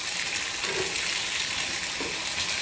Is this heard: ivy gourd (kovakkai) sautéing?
yes